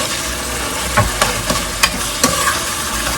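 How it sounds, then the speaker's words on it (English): A spoon stirs a red and white pasta sauce in a pan on the stove, giving a few soft scraping clacks over a steady low sizzle, close and fairly quiet. "I'm going to give it a stir"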